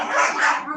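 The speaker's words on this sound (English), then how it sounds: "sorry for my dogs" Dogs barking indoors, a short, fairly loud burst of yapping and yips close by, with no talking heard.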